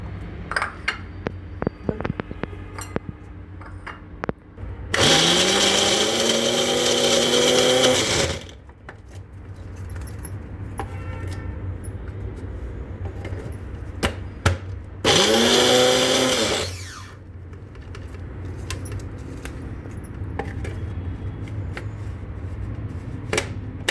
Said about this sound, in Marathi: आता आपल्याला हे कॉर्न थोडेसे क्रश करून घ्यायचं आहे